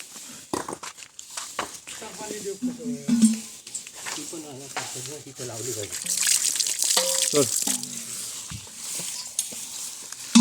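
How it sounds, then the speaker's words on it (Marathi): Water pours and splashes during the cleaning of a community village well in Konkan, with several people talking over it throughout. "पाणी घाला आता"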